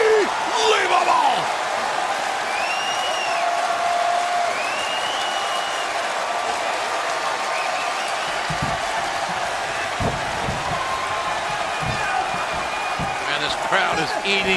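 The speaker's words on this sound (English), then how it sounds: "And this crowd is eating this up." A big arena crowd at a professional wrestling event, a Young Bucks vs Lucha Brothers ladder match, cheers and applauds in a loud, steady roar with whoops and a few slams near the end.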